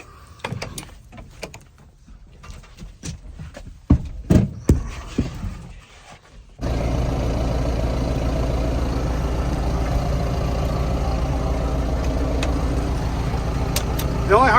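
A tractor engine cranks and catches after several seconds of clunks and handling noises, then settles into a loud, steady, close diesel rumble that runs to the end.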